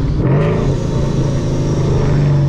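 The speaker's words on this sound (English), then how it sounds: "second gear downshift. Listen." A 700 horsepower Mustang engine drones steadily up close, its pitch dipping and settling lower as it downshifts to second gear, with a continuous low rumble throughout.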